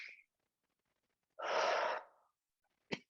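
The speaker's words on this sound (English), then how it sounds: "let's stop and take a breath in" A single deep breath drawn in during a guided breathing session: a long, close, breathy inhalation of under a second, with a brief soft sound just before and a short sharp breath sound at the end.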